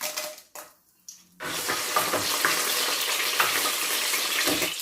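Dried red chillies and bird's eye chillies drop into hot oil, and after a short quiet gap a loud, steady crackling sizzle starts and holds close up, with no one speaking.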